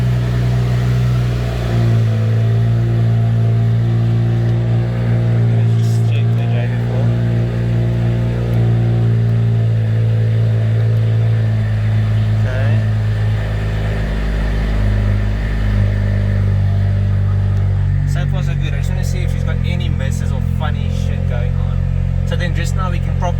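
A single-turbo BMW 335i with anti-lag installed starts and idles with a steady low engine drone, then rises into a rougher rev near the end. A voice talks over it.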